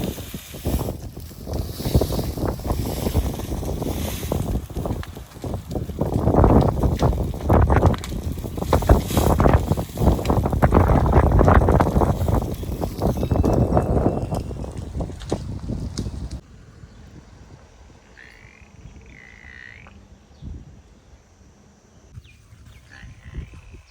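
Strong gusty wind buffets the microphone for about sixteen seconds, then drops away to a much quieter outdoor background.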